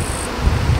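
Local honey bees buzz at an opened hive on a windy day, a steady close hum mixed with low wind rumble and a brief higher whine early on.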